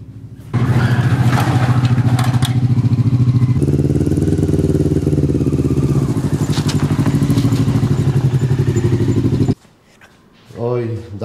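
An enduro scooter that has sat unused for a long time fires up suddenly and runs loud and close with a throbbing, clattering beat for several seconds before cutting off, while voices talk over it.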